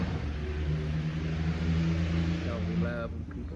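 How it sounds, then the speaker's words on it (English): A loud car passes close outside, its engine droning steadily for a few seconds before fading. "We love when people in their loud cars."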